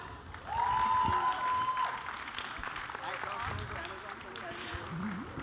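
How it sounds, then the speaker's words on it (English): Crowd at a web series launch event applauds, a moderate wash of clapping with a host's voice and a sustained tone over it early on, continuing beneath faint chatter. "Let's hear a huge round of applause for them."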